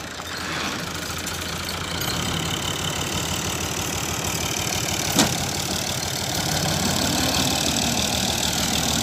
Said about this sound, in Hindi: अगे ट्रैक्टर